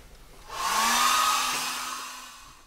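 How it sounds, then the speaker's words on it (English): A hair dryer blows on a watercolor painting in progress, a loud steady whoosh with a faint motor whine that switches on after a short pause, holds, then slowly fades. "Now I'm going to hit the hair dryer on that."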